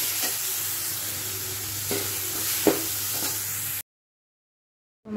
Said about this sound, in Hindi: तो मसाले को अच्छे से भून लेंगे